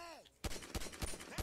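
Gunfire in Grand Theft Auto V story mode, aimed at a gas container: four sharp, loud shots at roughly even intervals after a brief quiet lead-in with a falling synthetic tone.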